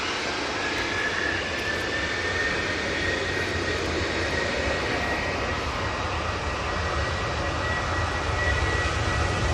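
A Jet2 airliner departs Manchester Airport for Venice in heavy rain during a storm, its engine roar loud and steady throughout.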